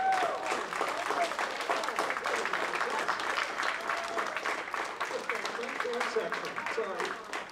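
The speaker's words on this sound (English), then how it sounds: "Let's give the French horns a special round of applause" Audience applause for the French horn section at a school spring band concert, a steady broadband patter of clapping that holds for several seconds, with some talk mixed underneath.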